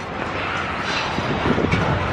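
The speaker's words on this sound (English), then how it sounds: "Oh, look at the train." A passing train rumbles steadily nearby, a loud, continuous low roar with a few faint clacks and no talk.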